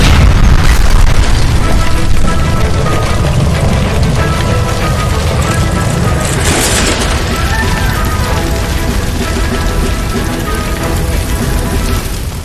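In L.A. Noire, a gas line explosion erupts with a loud deep boom at the start, then a sustained roaring, crackling rumble of fire and debris fills the rest, slowly easing off.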